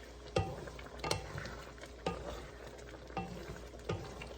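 Sauce thickened with cornstarch and water is mixed into a stir-fried egg tofu and mushroom dish, giving a few distinct scraping, clattering stirs of a utensil against the pan over a low sizzle.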